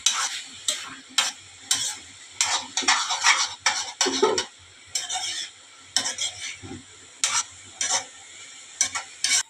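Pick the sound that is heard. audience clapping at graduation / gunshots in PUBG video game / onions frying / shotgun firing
onions frying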